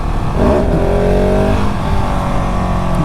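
A 2019 KTM 690 SMC R supermoto's single-cylinder engine revs hard and loud up close, climbing in pitch as the bike accelerates, with a continuous roaring drone.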